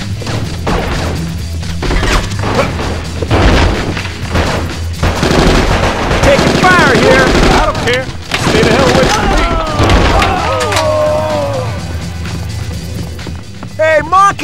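Gunfire in the Bad Boys 2 action video game: loud, repeated shots and crashing impacts rattle throughout, with bursts of fire mixed with in-game voices talking over the chaos.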